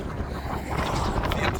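Strong wind buffets and roars against a car driving along the south coast of Iceland, a continuous loud rushing with rising gusts.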